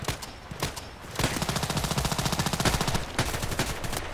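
Rapid automatic gunfire in the Contract Wars shooter game, with a few sharp single shots followed by a loud sustained burst of closely spaced rounds.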